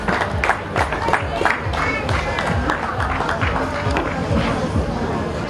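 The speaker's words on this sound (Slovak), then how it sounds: "Veľký potlesk." Crowd clapping at an outdoor town-day race awards in Žarnovica, a steady broad patter of many hands continuing evenly throughout, with a background murmur of voices.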